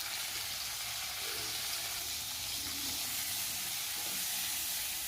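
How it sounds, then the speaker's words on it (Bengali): Pointed gourd frying in a pan with salt and turmeric gives a steady, close sizzle with a constant hiss throughout and no voices. "এবারে আমি পটলটাকে একটু ভেজে নেব।"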